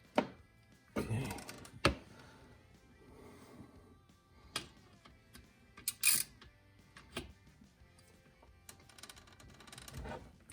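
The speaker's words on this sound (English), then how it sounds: "we'll come back with the socket wrench here in a second" A socket wrench works on the drain plug of a Polaris Hawkeye 300 ATV during an oil change, giving sparse sharp metallic clicks and taps with quiet gaps between them, close and fairly faint.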